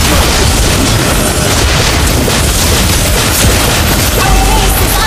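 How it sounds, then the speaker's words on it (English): A turret being destroyed in a multiplayer battle video game, with loud dense booming explosions and rapid gunfire bursts that hold steady throughout. "Our turret has been destroyed."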